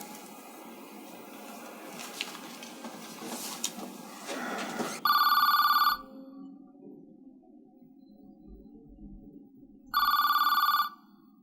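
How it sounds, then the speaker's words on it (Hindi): A telephone rings twice in an office during an Urdu drama, two loud electronic bursts about five seconds apart, each lasting roughly a second, following a stretch of murmured background noise. "ताक़िर, आपका फिर फ़ोन है"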